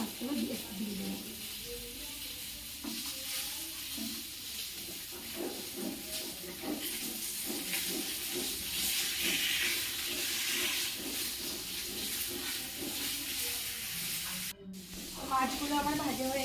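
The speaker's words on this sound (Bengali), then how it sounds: "আর বাকি মাছগুলোকে ভেজে নিচ্ছি।" Fish frying in a pan of oil gives off a steady, dense hiss and sputter close by that holds throughout, with a voice faintly present underneath.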